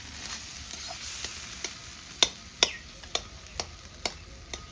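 Egg and meat fry and get stirred in a pan, with a steady sizzle under repeated sharp scraping clicks of a utensil against the pan, close and moderately loud, with no talk.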